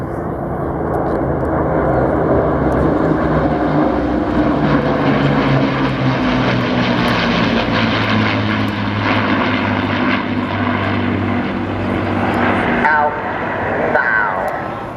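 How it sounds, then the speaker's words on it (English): Hawker Hurricane fighter flying past at an air show, its piston engine a loud, steady drone that swells and holds throughout with a slight shift near the end, while a commentator's voice runs beneath it. "Croft in Hurricane LN 363 today"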